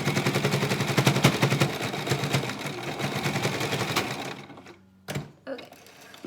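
A sewing machine stitching bias tape onto a fabric face mask, running in a fast continuous rattle for about four seconds before stopping, followed by a couple of brief handling clicks.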